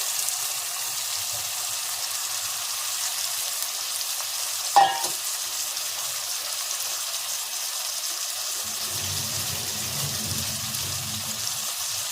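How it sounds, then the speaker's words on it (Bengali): Mutton pieces frying in a pan for a home-style Bihari and Bengali mutton curry: a steady, close sizzling hiss throughout, a brief clatter near the middle, and a low bubbling toward the end, with no talking. "এর মধ্যে এবার আমি মাংসগুলোকে দিয়ে দিচ্ছি।"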